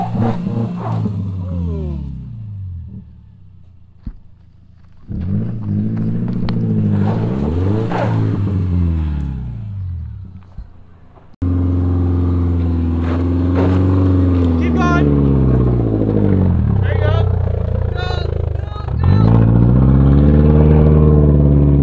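A lifted Subaru climbs a rough off-road trail, its engine revving and surging in rising and falling pulls, loud and close, with people talking and cheering over it.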